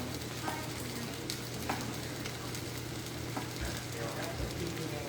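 Pieces of smoked sausage sizzle and fry in a pot for a bayou shrimp stew, a continuous soft crackling with scattered pops and faint stirring scrapes, steady and low in level.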